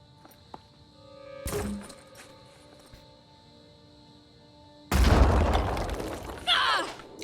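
A grenade tossed and detonating in the turn-based tactics game Phoenix Point: a soft thunk, then a loud, sudden broadband blast that holds, with a second burst of crackling debris near the end.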